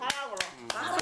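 A few sharp claps, about four in one second, given in a rural foot-massage shop, close and fairly quiet, with a voice talking and singing-like tones throughout.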